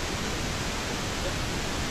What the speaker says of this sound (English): have you guys got pink noise there now?